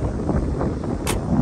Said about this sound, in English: bear with me because it is pretty windy